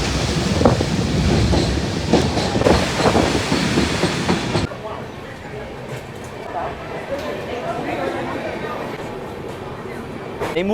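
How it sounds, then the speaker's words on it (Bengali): A passenger train pulls into Malda Town railway station, its loud rumbling clatter dropping abruptly to a quieter hum and faint knocks partway through, with voices nearby. "আমাদের ট্রেন এই মুহূর্তে এসে পৌঁছালো মালদা টাউন রেলওয়ে স্টেশনে"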